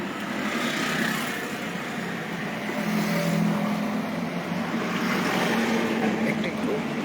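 Car engine revving gently during a driving lesson, a steady close engine roar that swells slightly and holds, with broadband road and wind noise and no clear talking.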